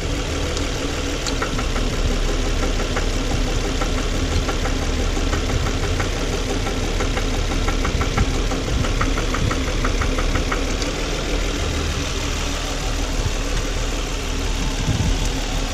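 A car engine idles steadily with its coil-on-plug ignition coil connected, giving a dense, continuous mechanical rumble with a faint rhythmic ticking throughout and no talking.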